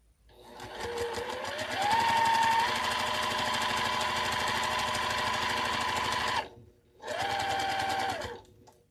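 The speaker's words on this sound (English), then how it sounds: "you would not believe how easily this machine is sewing over 8 layers of flannel" A sewing machine pushes through eight layers of flannel, whirring loudly and close as it speeds up and holds a steady run, then briefly stops before a second shorter burst of stitching.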